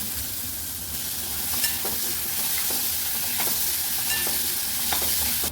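Tomatoes and a pinch of asafoetida fry in a pan for palak chana bhaji, giving a dense continuous sizzle with soft periodic scrapes of stirring, near and uninterrupted by speech.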